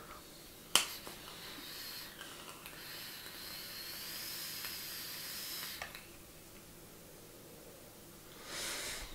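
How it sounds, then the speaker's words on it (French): An e-cigarette on an X-Cube 2 mod set to 40 watts gives a soft, steady airy hiss during a long draw, faint and close, with a sharp click near the start and a brief breathy puff at the end. "on va faire un petit test de vape, hein, monter sur l'X-Cube 2"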